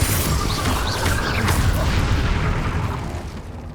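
A Confringo spell explodes in a Hogwarts video game, producing a loud, dense, continuous booming roar that holds steady for several seconds and thins slightly toward the end.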